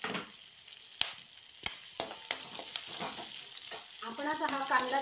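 Finely chopped onion frying until golden brown, a bright close sizzle broken by sharp stirring clicks and scrapes of a spoon against the pan, building toward a busier crackle at the end.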